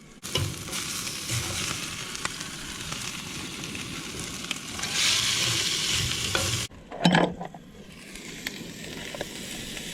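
Crayfish fry for paella in a pan with a dense, continuous close-up sizzle and crackle, rising in intensity midway, then a brief pause and a clunk of the pan or utensil before the frying resumes.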